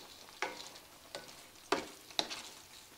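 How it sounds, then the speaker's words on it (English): Tomato chunks are stirred into a sizzling pepper steak stir fry, with four sharp scrapes of a utensil against the pan over a soft, continuous sizzle. "And this is just 1 tomato I cut into chunks. And I'm just going to lightly stir it in here."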